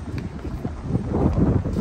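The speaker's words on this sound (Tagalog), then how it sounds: "Mahangin po." Steady wind buffeting the microphone at an outdoor basketball court in Al Nahda Pond Park, Dubai, a low continuous rumble that grows slightly stronger toward the end, with no voices.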